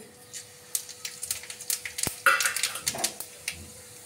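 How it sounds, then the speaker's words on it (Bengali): Dried red chillies, bay leaves, whole garam masala and cumin stirred in hot oil in a pan, giving soft sizzling under a series of close, irregular clinks and scrapes of a utensil against the pan. "এই যে নাড়াচাড়া করছি একটু একটু ভাজা গন্ধ বেরোনো পর্যন্ত।"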